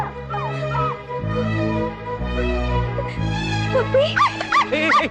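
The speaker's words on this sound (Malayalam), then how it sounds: "ഈ പട്ടി തന്റെയാണോ" A dog yips and whimpers in short bursts near the end, over steady background music.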